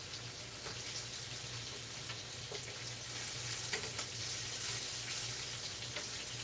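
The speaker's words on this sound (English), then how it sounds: "I love that sound, the sizzling." Food sizzles in a hot pan on a kitchen burner, a soft continuous crackle and spatter with small pops, quiet and close with nobody speaking.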